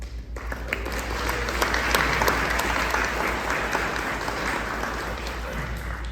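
An audience applauds to welcome Chase Hall and Michael Govan at an in-conversation event: steady, dense clapping from a crowd that holds for about six seconds without a voice over it.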